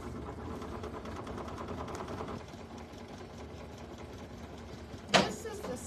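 An embroidery machine stitches out a design in Floriani and Isacord threads, giving a steady mechanical hum and rapid needle chatter that runs through most of the stretch, with a short sharp knock near the end.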